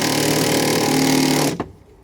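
A power drill whirs steadily at close range for about a second and a half, then stops abruptly, leaving near silence.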